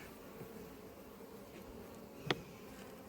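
Calm honeybees hum softly around hives at an apiary, a faint, even drone throughout with a brief sharp tick near the end.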